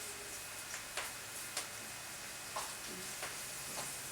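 Green beans frying in a thin layer of oil, a faint, quiet sizzle with a few soft ticks and light pops scattered across the moment.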